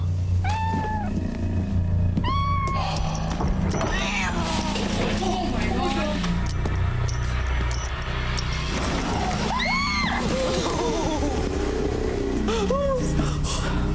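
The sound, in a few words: cat meowing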